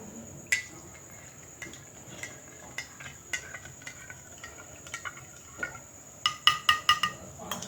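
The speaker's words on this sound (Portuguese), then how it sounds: "Com o auxílio de uma colher, irei adicionar 2 colheres, bem cheia, formando assim uma solução super saturada. Iremos agitar." A spoon stirs a heaped supersaturated solution in a cup, producing light clinks and taps against the sides that quicken into a brisk run of rapid chinks near the end, heard up close.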